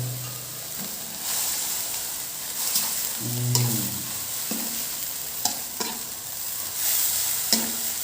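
Pork with skin and offal stir-fried in a pan: a loud, steady sizzle with repeated scrapes and clanks of a utensil against the pan, plus a short low rumble partway through, heard up close.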